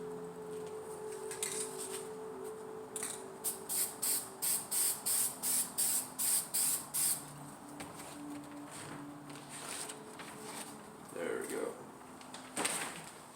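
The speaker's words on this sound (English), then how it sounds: "We're gonna spray the same silver as we did on the stars" Short bursts of silver spray paint on scrap wood flags hiss in a quick series of about ten even pulses, then a few scattered sprays later, close by with faint background voices.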